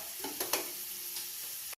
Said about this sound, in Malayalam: നല്ല ബ്രൗൺ കളറ് ആയി കിട്ടുന്ന വരെ നല്ല ഇളക്കി കൊടുത്ത് സെറ്റാക്കിയിട്ട് ഇങ്ങനെ വറുത്തിട്ട് കോരിയിട്ടെടുക്കാം